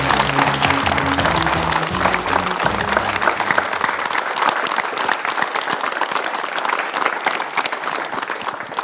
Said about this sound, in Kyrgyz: Кол чабуулар, кол чабуулар.